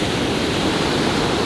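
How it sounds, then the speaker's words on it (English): Ocean waves crash on the beach at Plum Island, Newburyport, Massachusetts, a dense and loud wash of surf heard close and without a break. "very relaxing with the crashing of the waves"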